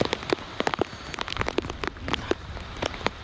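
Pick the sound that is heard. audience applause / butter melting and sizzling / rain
rain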